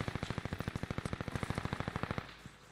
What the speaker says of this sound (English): I'm getting sniped up from somewhere